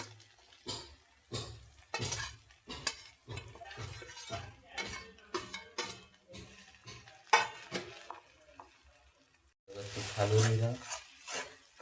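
Masala is stirred and fried in a kadhai with salt added. A spoon scrapes in a rhythmic series of close strokes over soft frying, and a louder sizzling surge comes near the end.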